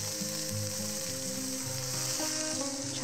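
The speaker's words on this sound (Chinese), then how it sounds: "番茄下锅" Tomatoes hit a hot wok for a home-style tomato and egg stir-fry, giving a steady soft sizzle of frying that carries throughout beneath tonal background music.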